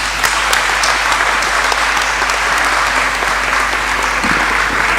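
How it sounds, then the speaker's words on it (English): Loud, continuous applause fills a university seminar launch, a thick, even roar of many hands clapping close by with a steady low hum beneath. "A louder round of applause"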